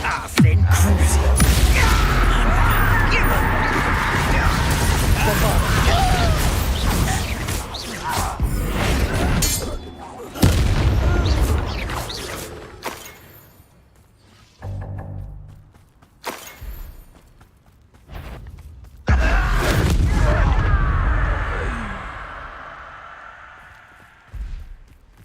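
Confringo blasting spells in Hogwarts Legacy erupt in loud, crackling bursts that recur roughly every ten seconds, each fading into quieter magical rumbles and faint shattering debris.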